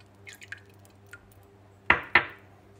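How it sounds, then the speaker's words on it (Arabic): Oil added to bread dough ingredients in a home kitchen: faint small liquid sounds, then two distinct wet plops close together, quiet and with no voices. "الزيت"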